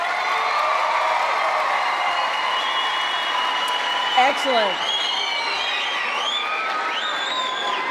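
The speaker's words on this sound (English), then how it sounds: "those of you who are from outside of Texas, can I hear some applause?" An event audience at a Turkish culture and language olympiad claps and cheers under a steady wash of crowd noise, with a few whoops rising near the middle and a voice speaking briefly over it.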